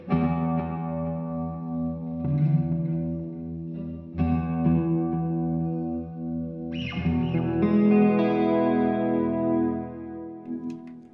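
Electric guitar runs through a Nux MG-30 multi-effects unit with amp simulation, playing sustained distorted chords with chorus and echo, loud and alone with no talk.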